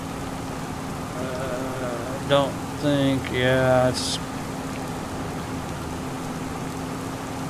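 Steady rain falls on a farm as a soft, even hiss that runs through the whole stretch, with a man's short spoken remarks over it.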